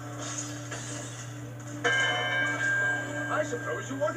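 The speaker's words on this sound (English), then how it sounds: "that loud ring when he hits his head on the bell" In Spyro 2 Reignited on PS5, Spyro butts his head against a bell, which sounds loud resonant rings over a steady game hum, with a sharper strike partway through and the tone lingering.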